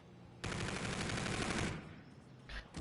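Rapid automatic gunfire in a competitive esports shooter match, a dense sustained burst lasting over a second before tapering off, loud and close with no talk over it.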